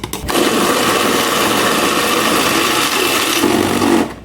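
A kitchen blender whirs steadily and loudly, grinding an egg and shrimp mixture for homemade egg sausage. The motor starts abruptly, runs at an even roar for about four seconds, then cuts off.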